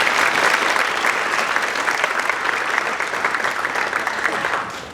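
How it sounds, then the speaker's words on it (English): A crowd at a school band winter concert claps together in a dense, steady wash of applause that holds for several seconds before beginning to fade. "So we give them a round of applause, please."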